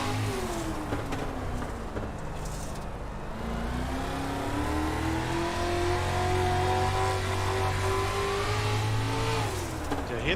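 Race car engines drone and rev on a dirt track in the iRacing video game, their tone rising and falling steadily as they run close and loud, with no commentary over them.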